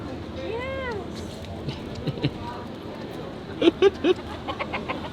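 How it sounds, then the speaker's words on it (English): A rooster crows once near the start over outdoor background noise in Key West, Florida, followed by faint scattered clucks and bird calls; a voice murmurs briefly. "what's up with the roosters?"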